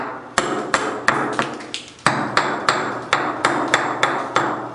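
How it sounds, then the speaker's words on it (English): A metal slag hammer strikes wood repeatedly while distressing resin material, a dozen or so sharp, close blows in a quick, fairly steady rhythm. "beating up the material on the wood using the razor part of the slag hammer"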